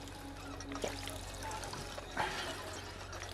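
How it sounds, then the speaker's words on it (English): A character gulps water in the video game Fallout 4, played in survival mode, with soft pouring, trickling liquid sounds over a steady low game-ambience hum and a couple of brief louder splashes. "That's how you drink water, right?"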